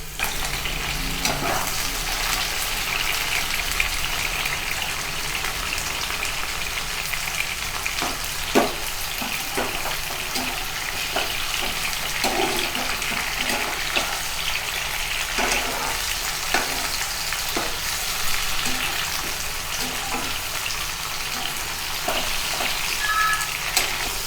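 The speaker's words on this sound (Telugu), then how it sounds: "ఆ మష్రూమ్స్ వేసుకొని ఒక 2-3 నిమిషాలు ఫ్రై చేసుకోవాలి" Sliced mushrooms fry in hot oil for a mushroom masala, a continuous close sizzle broken by frequent sharp clicks and spatula scrapes at irregular intervals, with no talking.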